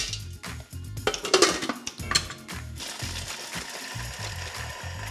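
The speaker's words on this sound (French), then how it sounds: "Et ensuite, je mixe pour obtenir mon praliné." A food processor grinds caramelized pecans into praline with a steady, rhythmic churning and rattling of hard nut pieces against the bowl, loud and close with no talking.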